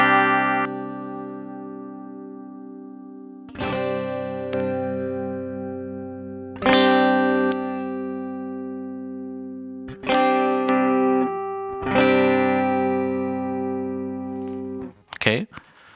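Electric guitar with a coil-split humbucker running through a graphic EQ pedal, sounding five sustained chords with clear attacks and long ringing decays, each struck separately, ending in a brief bright scrape.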